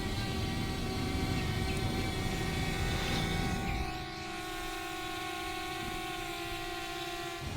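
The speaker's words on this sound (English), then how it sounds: "is checking us out with the drone" A drone flies overhead above a shore where a canoe launches in alligator country, giving a steady broadband whir with high tonal whine lines that grows louder for about four seconds, then falls to a quieter hum.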